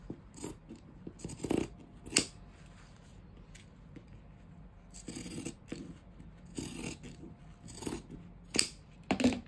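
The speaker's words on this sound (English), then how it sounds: "I can fold it this way and then cut the edge, just a tiny bit from the edge" Pinking shears snip along a folded fabric edge in a string of crisp, close cutting crunches, some in quick clusters and others spaced apart, over a quiet room background.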